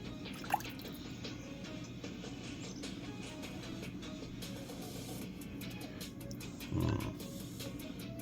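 Broth from a bowl of Myojo Charamera Mayu Tonkatsu instant ramen is poured off, a faint liquid trickle and drips over a steady low background hum, with a short splash near the end.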